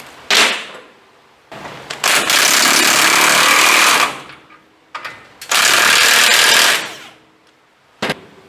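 A power tool, likely an impact wrench, tightens bolts on a Mustang II front suspension in a garage. It gives loud rattling bursts: a short hit, a long run of several seconds, another short hit and long run, then a brief final blip.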